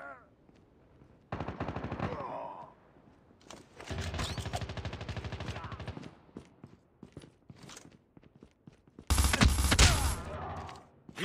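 M16 rifle fire in the mobile video game Call of Duty: Mobile comes in several loud automatic bursts of varying length, separated by quieter gaps with mechanical handling clicks. A loud final burst is heavily distorted.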